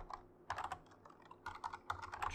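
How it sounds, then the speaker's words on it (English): Quiet, close typing on a computer keyboard during Python programming, with irregular clusters of light key clicks and short pauses between the bursts. "I typed apple, comma, tree, comma, and then money"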